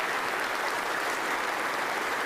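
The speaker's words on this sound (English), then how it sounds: "Let's give him a round of applause." An audience applauding for Michael Kelly, a departing athletics official, at a university speech event, with dense, even clapping sustained throughout.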